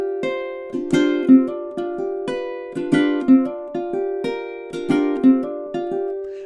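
A spooky fingerstyle ukulele melody from measures 21 and 22 rings out alone, plucked notes stepping in an even rhythm with repeated brighter accents, close and clear.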